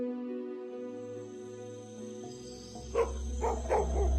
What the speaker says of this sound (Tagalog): Isa pala yung aso. Nang bumangon ako ay bigla yung tumahol.